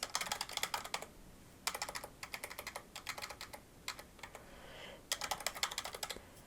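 Typing on a computer keyboard to enter basic information into an online survey login form, with quick bursts of close key clicks broken by short pauses.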